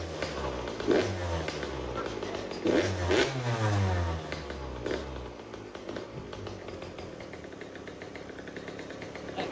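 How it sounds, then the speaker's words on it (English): A 2020 Yamaha YZ125 GYTR two-stroke dirt bike, rebuilt with a new carburetor and airbox, kicks over and fires up, then revs loudly in several rising bursts before settling into a steady rattling idle, close by with no talk. "Now we just gotta kick it over and pray that it starts."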